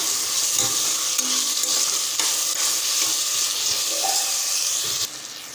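Peeled, cut cubes of medium potato frying with tomato in a pan as they are stirred. A steady, close sizzle runs throughout, with soft scraping from the stirring and a brief drop in loudness near the end.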